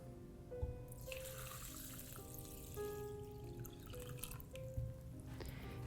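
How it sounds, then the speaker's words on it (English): Water poured and dripping into a heavy pumpkin centerpiece, a steady close trickle with faint tonal ringing and occasional drips, no talk. "I'm just going to put some water."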